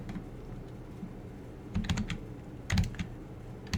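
Keys clack on a computer keyboard as a command is typed, short uneven clusters of close taps with brief pauses between them, no voices.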